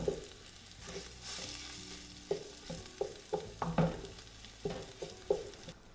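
Ground beef and rice fry in a pan for a beef and rice soup, a soft sizzle under repeated sharp scrapes and taps of a spoon stirring, close and quiet with no talk.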